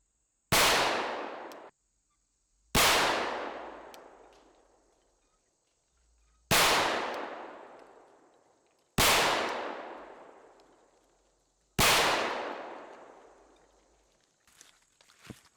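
A 9mm pistol loaded with Shell Shock casings and +P+ ammunition fires five single shots outdoors, sharp loud cracks spaced a few seconds apart, each trailing off into a brief decay.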